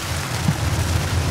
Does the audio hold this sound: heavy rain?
yes